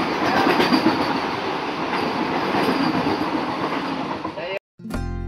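A Pune Express train running on rails, with a steady loud rumble and rolling wheel noise heard from on board, ending in a brief cut and a buzzing hum.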